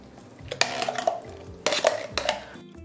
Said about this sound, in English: Now we're going to place our pie filling into a bowl.